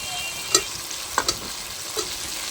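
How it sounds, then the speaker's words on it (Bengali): Fried potatoes stirred with soaked chickpeas and tomato in a pan, a few soft scraping strokes over a faint sizzle, quiet and close. "আলুটাও একটু ছোলা আর টমেটোর সঙ্গে ভালো করে নেড়ে চেড়ে নেব"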